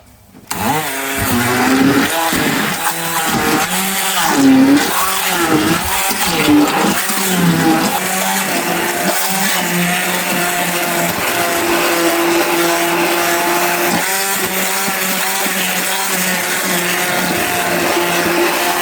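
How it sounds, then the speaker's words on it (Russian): A blender whirs steadily and loudly for the whole stretch, blending a sauce, its motor pitch wavering slightly as the contents churn. "И теперь это все через блендер."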